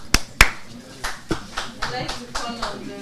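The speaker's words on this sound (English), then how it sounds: "A round of applause." A few sharp hand claps ring out at a press conference and inauguration, followed by lighter, evenly spaced claps that trail off, like brief sparse applause.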